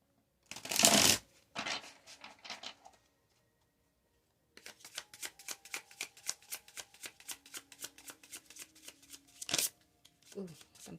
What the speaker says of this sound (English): me shuffle one more time